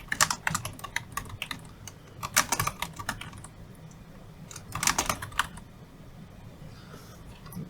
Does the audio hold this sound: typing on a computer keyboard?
yes